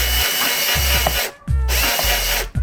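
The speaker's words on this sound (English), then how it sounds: "I'm just going to drill one bolt in there and another one on the side just over there" Power drill driving a bolt into the front grille of a Lexus IS200, loud whirring bursts that stop and restart in short repeated pulses, close up with no talking.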